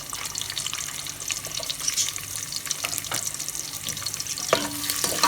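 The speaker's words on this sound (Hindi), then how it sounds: "तो अब हम मसाला भूनते हैं।" Onions frying in a pan as the base for a masala, a continuous close sizzle with stirring scrapes and some running-water noise, no talking.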